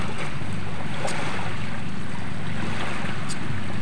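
Strong wind roars steadily across the microphone outdoors, a dense rumbling gust with no voices.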